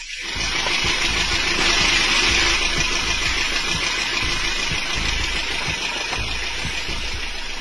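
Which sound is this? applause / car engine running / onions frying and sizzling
car engine running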